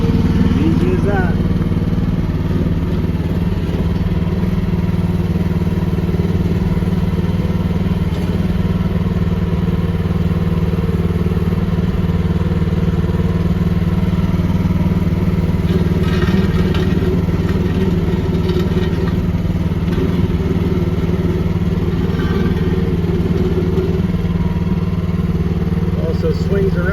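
A 2024 Landhero 12 mini excavator's small engine runs at a steady, rumbling idle nearby and stays loud and constant throughout. A few faint clanks rise above it now and then.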